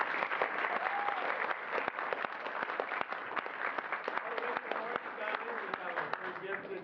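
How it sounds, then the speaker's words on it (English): An audience gives the cast of a university dance-theatre production a lively round of applause, dense clapping for nearly seven seconds with crisp individual hand strikes and some cheering voices mixed in. "give a round of applause one more time"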